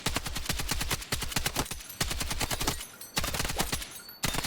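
An M240L machine gun firing in Battlefield 6, loud rapid bursts of automatic fire with short pauses between strings of rounds, close and dominant with no talking.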